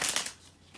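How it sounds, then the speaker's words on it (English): A quick riffle of tarot cards being shuffled, a short papery flutter lasting under a second. "So let me just shuffle"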